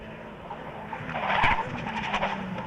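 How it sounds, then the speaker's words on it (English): Race cars brake late into Beacon Corner at the East London Grand Prix Circuit, a tyre squeal and engine noise swelling in the middle over steady trackside rumble and faint commentary. "listen to the late braking there from those cars, putting the tyres and the brakes under huge stress into Beacon Corner"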